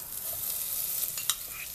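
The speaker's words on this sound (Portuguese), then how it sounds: "Já vamos colocar na nossa panela a manteiga para ela derreter" Salted butter melting in a hot saucepan gives a soft, continuous sizzle with faint crackles and one brief clink, heard up close with no talking.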